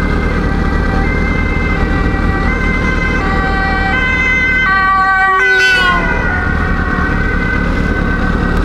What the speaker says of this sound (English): Is that an ambulance I hear?